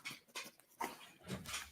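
A pet dog whimpers and whines close by in a home, several short, uneven bursts of soft, breathy vocalizing.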